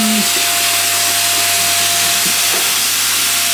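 A Hoover vacuum cleaner runs at close range with a steady, dense whooshing hiss and a constant low hum, unbroken for the whole stretch.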